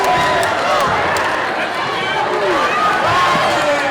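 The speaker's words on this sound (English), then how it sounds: "And the entire crowd erupts." Loud, dense roar of a high school boys basketball crowd erupting after a chase-down block, a sustained wall of cheering and shouting with sneaker squeaks and faint voices mixed in.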